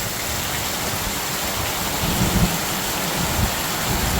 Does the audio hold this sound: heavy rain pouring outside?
yes